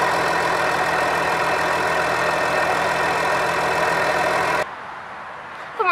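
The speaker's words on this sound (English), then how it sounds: "underneath the hood, there's a V6 3-liter diesel engine" The 3-liter V6 diesel engine of a Ford F-150 runs with a steady, even hum for about four and a half seconds, then cuts off abruptly into near silence.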